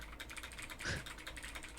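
Quiet, rapid typing on a computer keyboard, a string of soft, close key clicks with one slightly louder tap in the middle.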